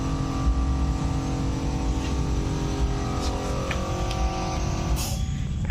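A Honda GX-25 brush cutter engine runs close and loud under throttle, a steady buzzing drone with a constant pitch throughout.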